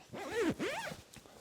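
Two quick zipper pulls on a heated jacket, close, each a short rising and falling rasp, followed by quiet.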